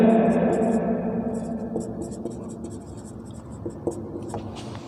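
A pen scratches across paper or a board in short, steady strokes during a Hindi pharmacology lesson, while the teacher keeps talking over the writing throughout.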